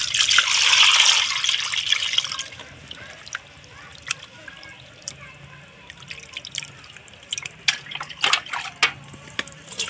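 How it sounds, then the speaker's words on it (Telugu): Water poured over fresh fish being washed in a bowl, a close rushing splash for the first couple of seconds, then scattered drips, trickles and small splashes as the fish are rinsed. "ఒకసారి మళ్ళీ నీళ్ళు పోసుకొని కడుక్కున్నాం"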